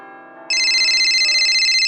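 A phone in a Hindi comedy film starts ringing with a bright, steady electronic tone after a moment of faint tonal background sound, loud and close.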